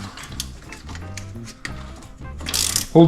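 Ratchet clicking rapidly in short bursts while breaking loose a nut on a 2013-2018 Ford Focus ST suspension during a lowering spring install, close and metallic, ending with a louder clack.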